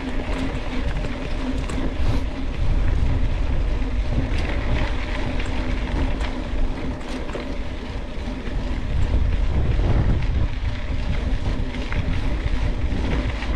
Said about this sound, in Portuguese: O vento aqui tá forte.